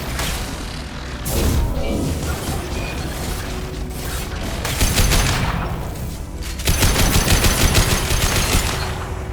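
Sustained automatic gunfire roars through a Mass Effect Legendary Edition firefight, with loud rapid bursts and dense rattling volleys. They grow heavier toward the end, where fast, evenly spaced shots stand out.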